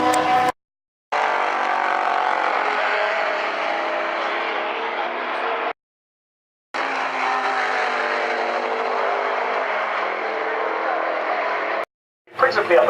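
Saloon race cars from a Special Saloons and Modsports race at Silverstone roar past in long sustained engine drones broken by brief gaps, with a commentator talking over them.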